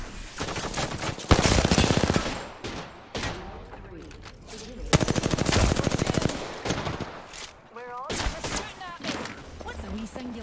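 Repeated bursts of automatic gunfire in the battle royale game Apex Legends, loud and close, in several clusters spread across the clip, with players' voices talking between and over the shots.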